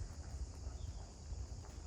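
A horse's hooves clip-clop at a walk during a riding lesson on posture and shoulder control, faint and distant under steady wind noise on the microphone.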